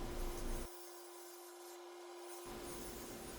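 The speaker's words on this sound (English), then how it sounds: "how the bowl gouge is cutting, if the speed of the lathe is okay" A bowl gouge cutting cherry wood on a lathe gives a steady close rasping scrape, broken by a short quieter gap partway through while a constant hum continues underneath.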